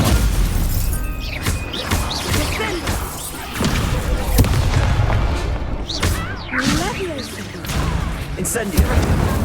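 Stupefy spell blasts in a wizard video game: repeated sharp booms and crashing impacts with shattering debris, loud and close, among other spell effects, with a voice shouting spell names.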